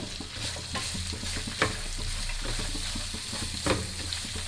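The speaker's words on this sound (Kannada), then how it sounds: "ಸ್ವಲ್ಪ ಟೊಮೆಟೊ ಮೆತ್ತಗಾಗೋವರೆಗೂ ಹುರ್ಕೊಂಬಿಡಿ" Tomato frying with curry leaves and coriander in a pan for a breakfast chutney, a steady close sizzle with occasional stirring clatter.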